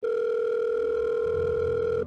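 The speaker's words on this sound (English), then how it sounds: "So I made a phone call." A steady telephone dial tone hums continuously for about two seconds as a phone call is placed, clear and close, alone with no voices.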